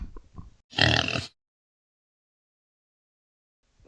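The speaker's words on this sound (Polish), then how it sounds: "świnka robi chrum chrum" A single short, snorting pig oink, close and loud, follows a couple of faint grunts, then silence.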